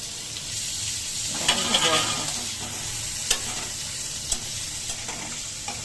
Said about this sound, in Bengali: অনেকক্ষণ বাজা বাজা করলাম বেশি লাল করবো না পেঁয়াজটা